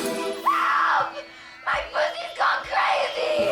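A voice imitates a woman screaming for help, with a short cry followed by several loud, strained yells in quick bursts.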